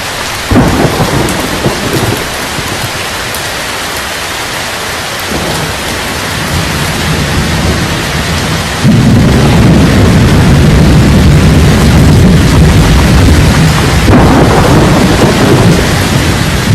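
A heavy thunderstorm on the African plains, with steady loud rain hissing and rolling thunder rumbling in long low swells that swell louder partway through.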